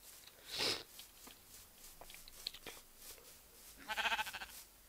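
A sheep in a video game bleats in a short wavering burst near the end, after an earlier brief breathy cry, with scattered small clicks and rustles between them and no talking.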